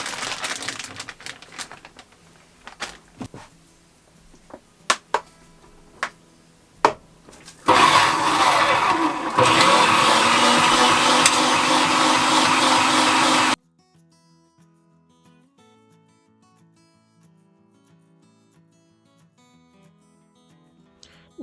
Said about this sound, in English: I just feed chunks of meat and fat into the grinder and I press it through